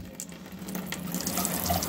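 Tap water runs into a small basin in the bathroom of a Lunar Jupiter camper, a continuous close splashing stream that swells slightly louder as it goes on.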